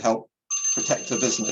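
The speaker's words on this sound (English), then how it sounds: "That's my alarm" An alarm starts partway through, a steady electronic ringing tone that sounds on and on beneath a person who keeps talking.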